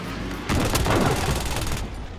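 Rapid automatic gunfire from the video game Call of Duty: Modern Warfare erupts as a loud, dense burst lasting about a second and a half, then cuts back to quieter background ambience, with no talking.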